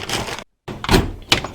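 A drawer slides shut on an automotive technician's metal tool box: a scraping slide, a brief silence, then a solid thunk with a short rattle of tools inside, close and fairly loud.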